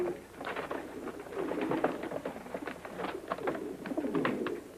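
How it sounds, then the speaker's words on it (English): Carrier pigeons coo steadily in a low, throaty murmur, several birds overlapping close by with a soft rustle underneath. "they're carrier pigeons, too"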